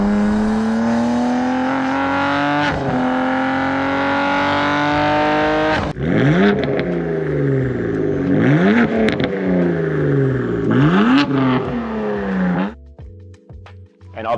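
A BMW F80 M3 with a custom equal-length exhaust revs hard and close, with a sustained high rev at first, then several sharp throttle blips rising and falling before the engine drops back to idle.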